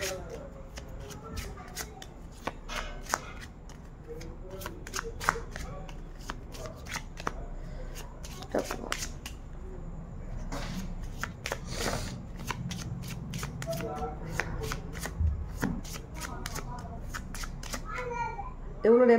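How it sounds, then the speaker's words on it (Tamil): Tarot cards being shuffled by hand in repeated riffling bursts, close and steady throughout, with someone talking over the card noise. "எவ்வளோ நேரமாக ஷஃபிள் பண்ணுறேன்."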